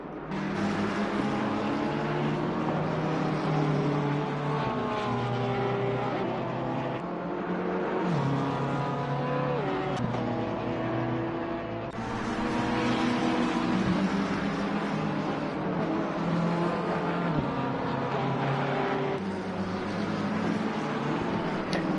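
Race cars lapping Imola in the Assetto Corsa Competizione racing game, including a Porsche and a Ferrari in the field, with a continuous engine drone whose pitch climbs and falls through gear changes and passes, loud and unbroken.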